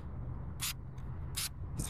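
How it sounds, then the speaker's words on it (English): Three short bursts of tire dressing sprayed onto a car tire during detailing, each a sharp hiss separated by brief pauses, close and fairly loud over a steady low background hum. "spray the stuff back on and let it sit"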